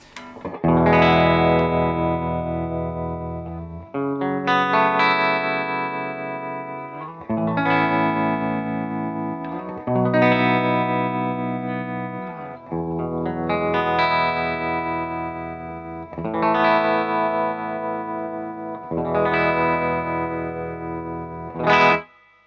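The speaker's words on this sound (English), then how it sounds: "this pedal is it has a sine wave tremolo in it as well" Sustained electric guitar chords ring out one after another through an analog pedal, each pulsing with a smooth, regular sine-wave tremolo wobble and a touch of distortion and reverb.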